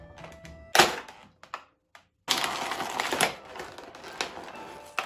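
Plastic packaging around a Good Smile Company Nendoroid figure is cracked and torn open by hand, producing close, crisp crunches and snapping thunks in irregular bursts with brief pauses between them.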